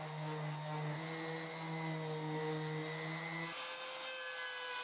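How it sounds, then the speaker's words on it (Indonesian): A random orbital sander smooths a pine wood folding table frame, giving a steady, loud whirring drone whose pitch drops slightly near the end as load changes. "Kemudian haluskan dengan menggunakan random orbital sander"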